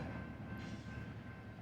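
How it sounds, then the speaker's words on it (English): A loaded CSX unit grain train heading south through Mitchellville, Tennessee, rumbles past steadily, with a dense low roar and broadband wheel noise that holds even and fairly loud throughout. "A loaded unit grain train heading south."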